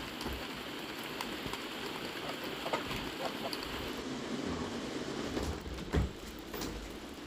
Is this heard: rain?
yes